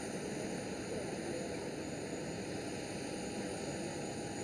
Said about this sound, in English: Private jets arriving on runway 36 right.